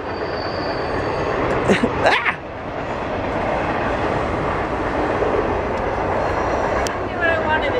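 A fast train rushes past in the background of a snowy outdoor scene, a continuous broad roar lasting several seconds, with a person's short exclamation and brief voices over it.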